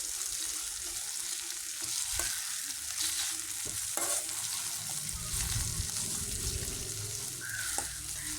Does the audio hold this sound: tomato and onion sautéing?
yes